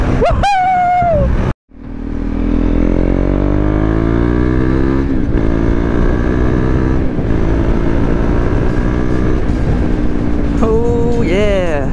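KTM 390 Duke motorcycle ridden hard, its engine revving up through rising whines, cutting off briefly between gears and then climbing again, loud and close with wind rush.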